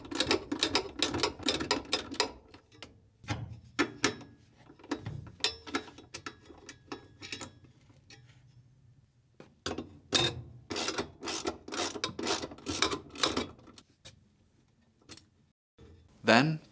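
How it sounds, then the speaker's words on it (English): A 10mm socket ratchet loosens bolts on a Samsung washer's drive motor support bar, giving bursts of rapid, clicking pawl ratcheting separated by short pauses, close and crisp, with talking in between. "using a 10mm socket, remove these two bolts on the support bar"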